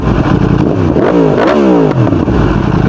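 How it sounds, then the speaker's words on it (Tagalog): Motorcycle with an Akrapovic full exhaust, on a Yamaha R1M, revs loud and close, its pitch sweeping up and falling back in one sharp throttle blip over a steady idle. "parinig ko lang sa inyo yung Acra natin na full exhaust"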